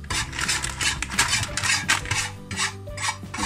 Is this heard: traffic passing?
no